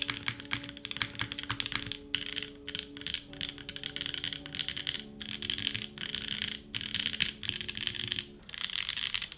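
Rapid, steady clacking of keys on a 60% mechanical keyboard, with brief pauses between bursts and a faint hum in the background.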